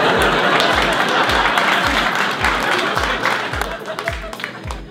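Audience applause fills a comedy show venue, a dense steady wash of clapping from a crowd that holds at full strength for several seconds before thinning slightly toward the end.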